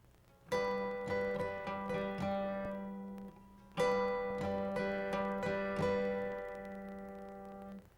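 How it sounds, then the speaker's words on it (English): Acoustic guitar notes plucked on two strings with thumb and middle finger, with light index-fingertip strums mixed in, played in two similar phrases with a pause between, close and clear. "plucking 2 strings, again with a thumb and a middle finger, and then lightly strumming with the tip of your index finger"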